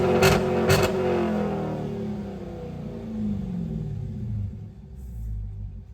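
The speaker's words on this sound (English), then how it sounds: "Ooh, no more stock exhaust." A 2023 wide-body Scat Pack with its mid-muffler deleted revs up with deep rumbling exhaust, then settles into a throaty idle, loud and close with no talk.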